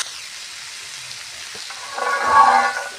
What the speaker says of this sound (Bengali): মশলাগুলো এবার ভালো করে মিশিয়ে নেব।